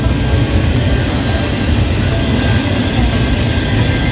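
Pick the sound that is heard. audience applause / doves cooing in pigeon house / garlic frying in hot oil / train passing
train passing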